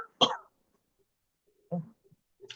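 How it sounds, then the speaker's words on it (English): A person coughs in a room, one sharp cough followed after a pause by a second weaker cough and a brief breathy sound, with silence between. "I'm gonna have to cough again"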